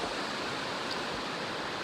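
A river rushes with a steady, broad, hissing flow, constant and fairly loud, with no other sounds on top.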